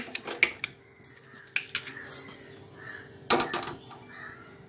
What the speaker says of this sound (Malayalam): നമുക്ക് ഗ്യാസ് എത്തിച്ച് ചട്ടി അടുപ്പിലേക്ക് വെക്കാം